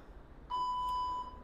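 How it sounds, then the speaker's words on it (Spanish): A single clear electronic beep from a workout timer sounds for under a second during a home leg-day dumbbell session, alone over faint background hiss. "Déjame colocar el temporizador de nuevo."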